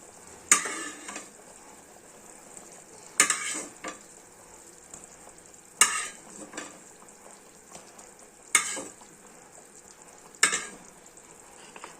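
Pabda fish and eggplant pieces drop into a simmering curry, giving five separate bursts of sizzling and stirring spaced a few seconds apart, with a quiet bubbling hiss between them and no talk.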